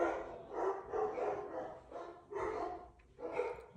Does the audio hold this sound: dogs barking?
yes